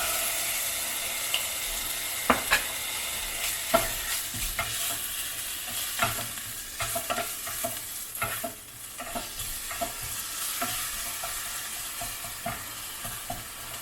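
Garlic and cumin frying in a pan for zucchini sabzi, a soft continuous sizzle with intermittent clinks and scrapes of stirring, close up and fairly quiet, no voices.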